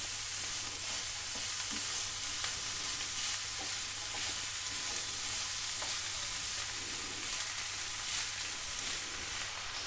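Crispy maida vegetable patties fry on low-medium heat in a pan with a constant, even sizzle and hiss that holds steady for ten seconds, broken only by a few faint scrapes.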